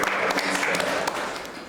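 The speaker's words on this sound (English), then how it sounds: "give all yourselves a round of applause for being here" An audience at a talk about freelance work gives a round of applause. It is a dense, continuous wash of many hands clapping at steady loudness for a moment.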